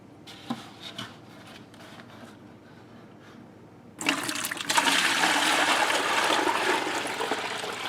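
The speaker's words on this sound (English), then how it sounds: "I'm going to take all this water out of here," Water poured back into a bucket during a tiling job starts abruptly halfway through as a loud, steady rushing splash, after several seconds of quieter scraping and handling noises.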